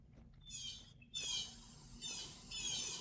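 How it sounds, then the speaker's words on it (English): Birds squawk in the background during a voice call, three bursts of harsh, high, raspy calls repeating at close range with short gaps between them. "What are those birds?"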